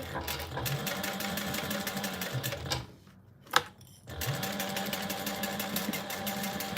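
A sewing machine runs a seam on a Rosie Sling bag at stitch length 4 with a 3/8-inch allowance. It hums with a steady rapid chatter, stops briefly with a click, then starts again, close to the mic.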